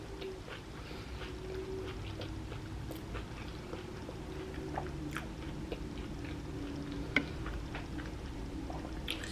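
Someone chews vegan soyrizo street tacos on small tortillas, with soft, moist chewing and a few faint clicks close to the mic over a quiet, steady hum.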